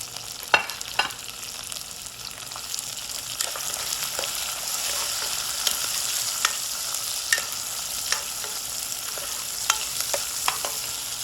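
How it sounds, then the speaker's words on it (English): Onions frying in a pan for saffron pilaf, a bright steady sizzle with repeated spoon clicks and stirring scrapes, close and unaccompanied by speech. "And then I'm going to add my onions. And we're going to cook the onions until they're translucent."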